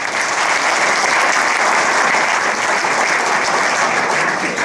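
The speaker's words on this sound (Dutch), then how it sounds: "Een applaus!" An audience at a sports gala in De Bilt gives steady, dense applause after a royal harmony band, filling the room evenly from start to finish with no break and no voices over it.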